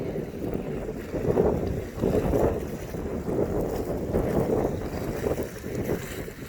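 Steady wind blows across an outdoor spot at Sherwood Shores, a low rushing buffet of breeze with gentle gusts swelling and easing, no voices over it.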